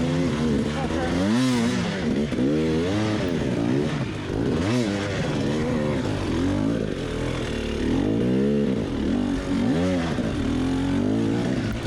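A dirt bike engine revs hard and repeatedly as the rider struggles up a rocky slope over boulders in a King of the Motos race, loud, close and continuous with rising and falling pitch.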